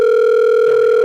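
Telephone outgoing call tone, a loud, steady electronic tone held throughout with a slight shift partway through, alone and close.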